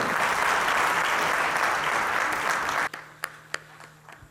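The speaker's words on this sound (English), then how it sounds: "Please, audience, give a huge round of applause." A large audience at a hospital surgery-unit inauguration ceremony gives a loud, dense round of applause that cuts off abruptly near the end, leaving a few scattered claps in a quieter room.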